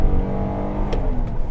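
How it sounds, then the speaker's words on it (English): A 2015 Kia Cadenza base sedan pulls under throttle, a steady low engine drone with a slight rise in pitch, heard from inside the cabin with no talking. "every time you mash the gas, you want to accelerate"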